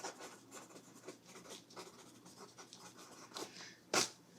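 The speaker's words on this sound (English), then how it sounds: "I'm just going to write your name on it." A pen writes a name on an envelope in quick, close scratchy strokes, a soft rhythmic scribbling that ends with a sharper tap near the finish.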